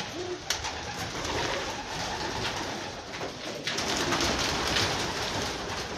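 Soft pigeon coos murmur beneath a steady hiss of rain-like noise, with occasional sharp clicks and flutters nearby.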